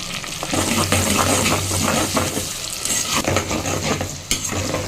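Tomato and curry leaves sautéing in a pan, stirred briskly with continuous scraping over a loud, close sizzle, with a low hum under part of it.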